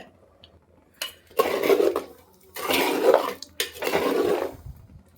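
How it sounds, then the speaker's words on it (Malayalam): Mustard seeds splutter in hot oil with onion, dried red chillies and curry leaves, rising in three loud bursts of crackling sizzle with faint utensil clatter between them and no voices. "ഉള്ളി വറ്റൽമുളക് കറിവേപ്പില കടുക് പൊട്ടിക്കുന്നുണ്ട്"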